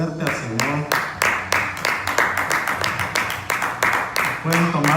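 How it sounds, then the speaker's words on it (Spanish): A church congregation claps hard during a worship service, a dense crowd of hands with rhythmic pulses running steadily throughout, with a few voices and music faintly underneath. "Dale un aplauso bien fuerte al Señor."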